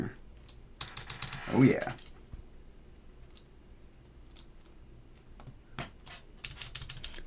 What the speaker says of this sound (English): we're gonna put some pink keycaps on here.